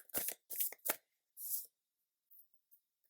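Tarot cards are riffled and shuffled in several quick, close bursts, then a card is slid and drawn, followed by a few soft taps and near silence.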